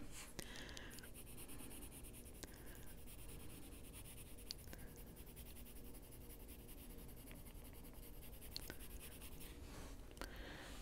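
A pencil colors steadily over paper in a castle-themed coloring book, making a close, continuous dry scratching of back-and-forth strokes for about ten seconds with no talking.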